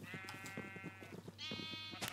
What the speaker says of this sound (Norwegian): Du, Kevin, du kastet sauen opp i vannet!